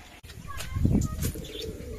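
Soft low pigeon coos rise and fall in a short burst, with faint chirps and a brief rustle nearby.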